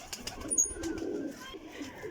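Breeder pigeons coo softly in a low, murmuring burst, close by, with faint chirps and light rustling around them and no talk.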